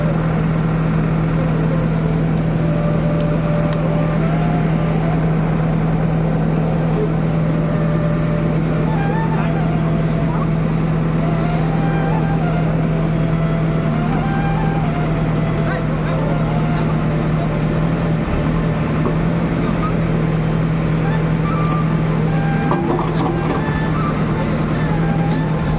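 A pickup truck loaded with wood runs its engine nonstop, a loud steady drone with a strong constant hum, while voices murmur faintly in the background.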